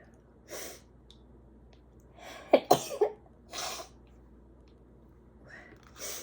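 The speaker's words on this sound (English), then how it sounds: "I'm gonna sneeze" A single sneeze bursts out, close and moderately loud, with a sharp intake and snorting breaths around it in an otherwise quiet room.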